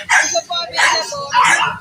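Shih Tzu poodle dog at an outdoor pet market giving three short, sharp yips or barks in quick succession, close by, with crowd chatter in the background.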